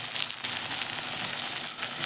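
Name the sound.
tomato added to sabudana khichdi being stirred in a pan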